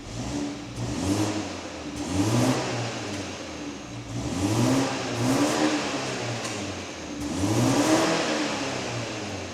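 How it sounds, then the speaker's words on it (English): A BMW 330e hybrid's engine with quad exhaust revs repeatedly in rising and falling bursts, a steady mid-pitched exhaust drone swelling about every two seconds, close and fairly loud. "you just press sport and that gets the engine to start."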